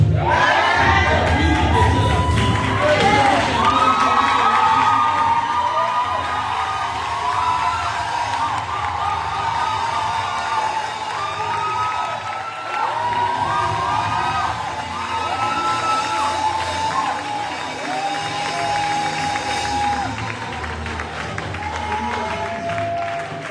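Church congregation at a night vigil cheering and acclaiming, loud whoops, shouts and applause that are strongest at the start and then settle into sustained cheering.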